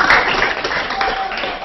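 Brief, thin applause comes through an online video hangout, a short scatter of clapping over a compressed, slightly echoey connection.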